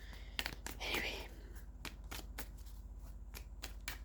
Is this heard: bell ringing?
no